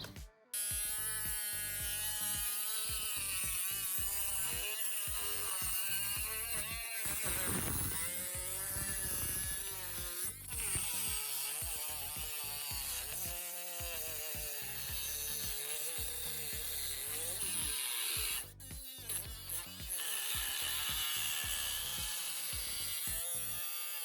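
A loud, continuous high-pitched whine of a power cutter grinding through a thin aluminium soda can, steady for the whole stretch with brief dips.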